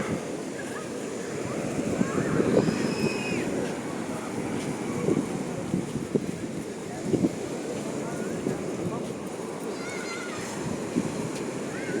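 Stormy sea surf breaks continuously on the beach at Sudak, a steady roar of churning water mixed with wind buffeting, with faint voices of beachgoers in the background.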